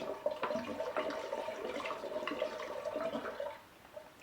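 Water mixed with leftover syrup pours from a swirled container into a carboy while making hard apple cider from a Brewer's Best Cider House Select kit, a steady close gurgling rush that fades out near the end.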